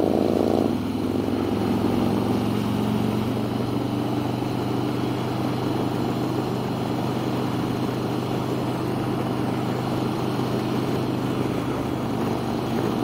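Harley-Davidson motorcycles riding together in a group give off a steady, rumbling engine drone that stays even and continuous throughout, with no talk.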